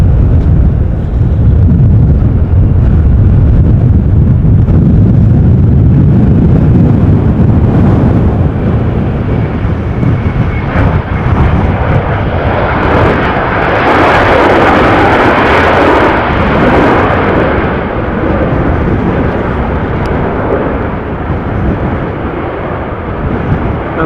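Embraer Legacy 650 business jet passing close during a windy storm at Amsterdam Schiphol Airport, a loud, steady roar that swells in the middle and fades with wind buffeting throughout.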